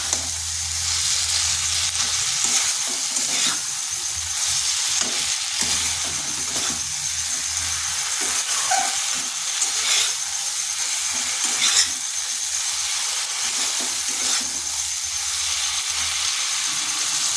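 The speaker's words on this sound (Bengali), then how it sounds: "মশলাটা কষানো হয়ে গেছে, দিয়ে দিচ্ছি আলু পটল। আলু পটলটাই মশলার সাথে একটু কষে নেব" Cubed potatoes and pointed gourd fry in a pan of cooked-down spice paste, a continuous close sizzle with occasional stirring scrapes and no one speaking.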